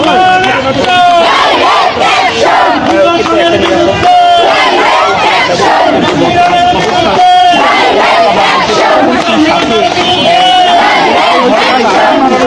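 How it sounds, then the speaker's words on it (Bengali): A women's street march in the capital demanding the home adviser's resignation, with a crowd loudly chanting slogans in steady rhythmic unison, the dense voices filling the clip continuously. "স্লোগান শুনতে পাচ্ছেন স্বরাষ্ট্র উপদেষ্টার পদত্যাগের দাবিতে"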